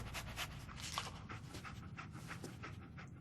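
A dog panting in the video game Fallout 4, quick rhythmic breathy pants repeating steadily and close, fairly quiet, with no talking.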